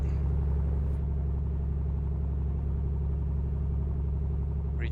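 A small aircraft's piston engine running just after start-up, a steady, even low rumble with a throbbing idle beat that holds constant throughout, with no talking.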